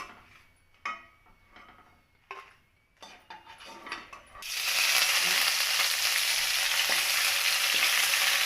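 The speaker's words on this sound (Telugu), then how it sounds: "కొద్దిగా కరివేపాకు ఇలా కరివేపాకు కరివేపాకు కూడా ఇలా ఫ్రై అయిపోయింది" Curry leaves hit hot oil and fry with a loud, steady sizzle that bursts in halfway through, after a few scattered clinks and stirring knocks in a home kitchen during preparation of a spinach chutney.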